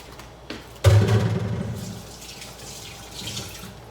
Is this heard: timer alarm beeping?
no